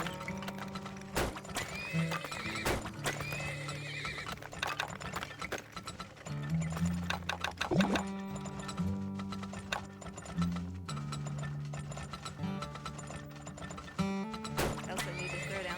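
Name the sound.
horses neighing and clip-clopping in the video game Turmoil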